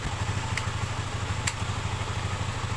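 A motorcycle engine with a fault that stops it from switching off idles quietly nearby, a low, steady rumbling putter with a couple of faint clicks.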